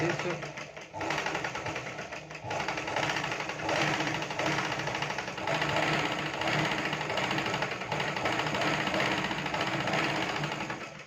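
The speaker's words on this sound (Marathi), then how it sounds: "डबल लेसला शिलाई मारून घ्यायचं" Sewing machine running steadily for several seconds while stitching double lace onto a blouse, a continuous close mechanical whir with speech underneath.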